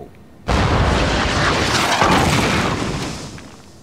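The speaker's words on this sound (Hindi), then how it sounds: "वाह, टाइगर की तोप का तो जवाब नहीं।" A sudden loud boom like a cartoon cannon blast, followed by a rumbling roar that slowly fades.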